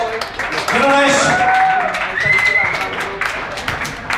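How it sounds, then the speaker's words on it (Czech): A live audience at a Czech evening event claps for producer Honza Gajdoš, a dense, steady patter of many hands filling the room, with shouts and voices rising over it. "Já myslím, že si zaslouží ještě jeden potlesk"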